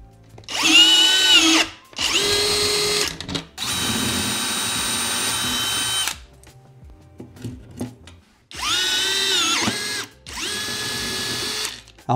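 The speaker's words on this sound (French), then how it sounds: "on va percer en 12 mm" A power drill bores a 12 mm hole for a Molly anchor in repeated whining bursts of a second or two each, one longer run in the middle, close and loud with quiet gaps between.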